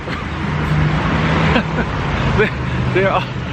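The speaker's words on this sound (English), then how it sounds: "You see those red trucks that keep going by?" Red trucks working as local cabs pass along a street in Chiang Mai, Thailand: steady engine drone and traffic rumble with brief honk-like tones, heard close under general street noise.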